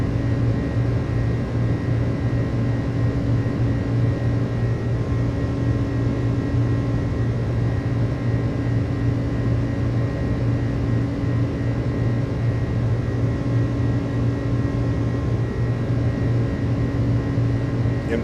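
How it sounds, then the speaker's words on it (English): Airbus A300 engines in Microsoft Flight Simulator 2024 settle into a steady, droning roar with a low tonal hum as thrust is reduced during the climb, continuous and unchanging, with no voices. "You can hear the reduction of thrust."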